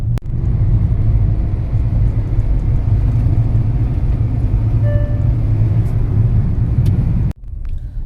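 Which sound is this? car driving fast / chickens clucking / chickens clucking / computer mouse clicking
car driving fast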